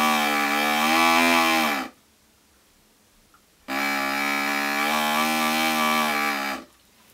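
A magic wand toy gives two long, loud cow moos, each almost two seconds and separated by a short silence, close and clear with no talk.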